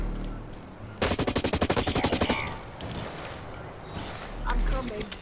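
Automatic weapon fire in the first-person shooter Blacklight Retribution, a close, loud rapid burst of about a dozen evenly spaced shots, followed by scattered weapon and game sounds, with voices talking over the action.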